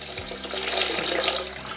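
Wine splashing and spilling as it is poured beside beef stock for an elk bourguignon, a brief continuous liquid gush, close and moderately loud.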